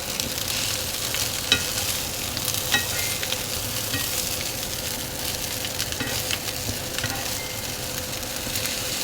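Brown rice frying and being stirred in a pan, a continuous close sizzle with occasional scraping clicks from the utensil, steady throughout.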